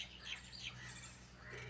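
Birds such as mynas and pigeons chirp and call in short, faint bursts at an ashram near the Narmada river's meeting point with the sea, with a low steady background hum throughout.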